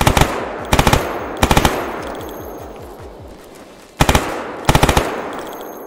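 Automatic weapons fire in the game Stalker Anomaly, in loud close bursts of three or four rapid shots, repeated at irregular intervals with a long ringing tail between bursts.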